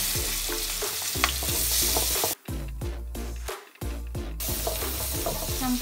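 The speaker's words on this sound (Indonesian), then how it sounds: "Nah, ini kita sisain minyaknya sedikit. Kita tumis bawangnya." Shallots sautéing in a little oil, with a loud, steady close sizzle and repeated scraping stirs throughout, broken by two short near-silent gaps.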